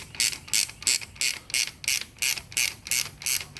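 A ratchet wrench tightens bolts on a 1966 Ford Bronco during a twin-stick install, with ten crisp, evenly spaced clicking bursts in a steady rhythm, close and fairly quiet.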